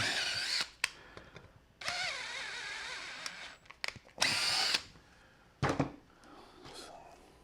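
A power drill bores into metal on a blaster kit build in several short whirring bursts of a second or so each, separated by clicks and handling noises, fairly quiet overall.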